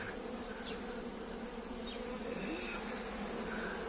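A swarm of honey bees buzzes in a dense, continuous drone, fairly faint and distant, as a beekeeper catches a swarm that arrived on its own.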